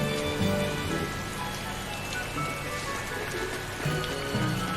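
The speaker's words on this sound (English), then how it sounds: "It rains so much in West Camp." Steady rainfall in West Camp, an area of the Tales of Berseria video game, makes a dense, continuous hiss with a soft low rumble underneath. It holds at an even level throughout, with no voices.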